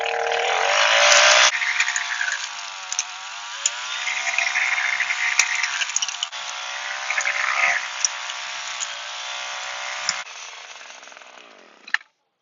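An Echo edge redefiner cuts a fresh lawn edge with a loud, continuous high-revving engine buzz, its note rising and falling slightly with load, running steadily for about twelve seconds before stopping abruptly.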